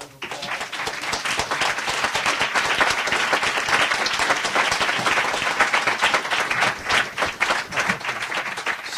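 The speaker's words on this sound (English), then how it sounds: "So I think we owe a round of applause" An audience at an urban ethics conference panel claps steadily and fairly loudly for the whole stretch, a thick, even patter of many hands with no talk over it.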